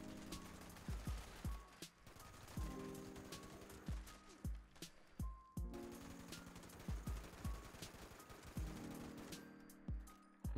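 Repeated gunfire from a weapon in Fallout 76 comes in quick, uneven bursts of sharp shots with short pauses between them, fairly quiet overall and with no talking.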